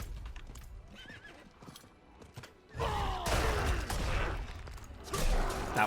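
A horse in the video game Diablo 4 gives a loud whinny among clip-clopping hooves, then combat whooshes and mechanical clatter burst in, building into a dense, loud flurry of effects.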